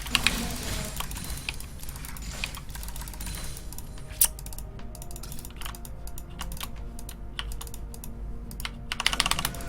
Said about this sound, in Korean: 키보드 고장났어 하도 때려가지고